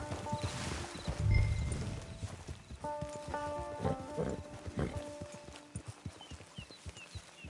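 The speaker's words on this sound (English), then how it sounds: "Hitch your horse." In Red Dead Redemption 2, a horse's hooves clip-clop at a walking pace, soft and fairly close, with a few irregular steps and faint ambient noise around them.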